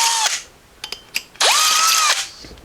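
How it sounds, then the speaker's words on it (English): A power drill with a 5/32 bit runs through holes in a Jeep J10 window trim piece, two loud high whirring bursts with clicks and taps between them, close by. "so I'm just going to run it through with a 5/32 drill bit"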